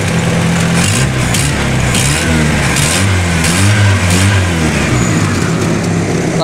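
A Dodge Caribe's engine runs and revs loudly and up close, its pitch rising and falling through several throttle blips with no pause, just after a damp rag was left on and with the ignition coil running cool.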